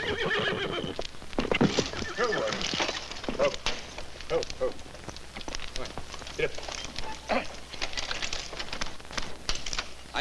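Saddle horses put in harness whinnying and neighing repeatedly among clip-clopping hooves and outdoor commotion, fairly close, with brief voices mixed in.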